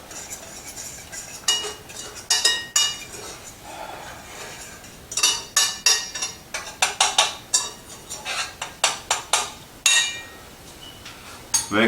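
A spoon stirs enchilada sauce in a cooking pot with repeated sharp metallic clinks and scrapes in uneven bursts, close and fairly loud, no talk.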